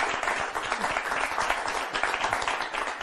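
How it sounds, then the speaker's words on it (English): Steady audience applause for a volunteer called up on stage at a magic show, a dense even wash of many hands clapping throughout, fairly close and alone with no talk over it. "Let's give him a round of applause."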